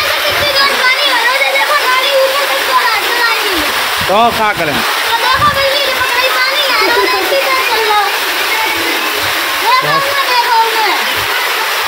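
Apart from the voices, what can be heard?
heavy rain, water flowing in drains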